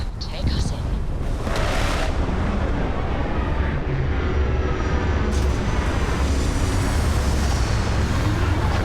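Spaceship in Starfield setting down at an abandoned outpost, a loud continuous engine roar with rushing wind-like noise throughout, swelling in bursts, with a voice talking over it at times.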